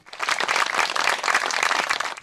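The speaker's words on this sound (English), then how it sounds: "he arrives to clapping and handshakes from parents of other players" Parents at a ball field clap as a returning soldier arrives, a steady, close burst of applause that swells quickly, holds for about two seconds and then trails off.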